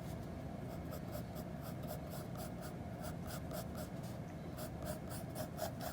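A pencil scratches across paper while drawing Sonic the Hedgehog's muzzle. Short strokes follow in a steady rhythm, close and fairly quiet, and no one speaks.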